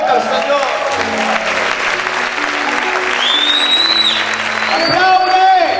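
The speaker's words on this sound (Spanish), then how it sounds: "¿Cuántos pueden aplaudir fuerte al Señor?" Loud applause from a church congregation praising the Lord fills the room, with music chords and a voice calling out over the clapping.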